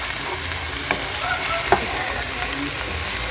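Loud steady sizzle and bubbling of a lasagna sauce as tomatoes are added and stirred in a pan, with a couple of sharp spoon taps against the pan and no talk.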